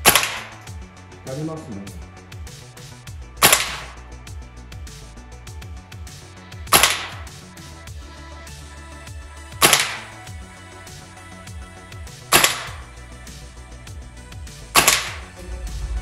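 A VFC Umarex H&K PSG-1 gas blowback airsoft rifle fires six sharp, loud shots about three seconds apart, with the bolt snapping back on each one, over a low steady background hum.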